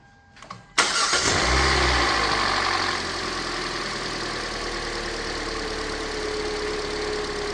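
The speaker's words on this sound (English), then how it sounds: "Let me start this thing up. See if the engine still works." A 2015 Hyundai Elantra with an exhaust problem cranks and fires after brake and oil repairs, surging loudly before settling into a steady, close idle rumble.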